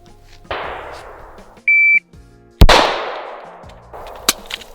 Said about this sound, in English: 1-on-1, shot timer. Shooter ready?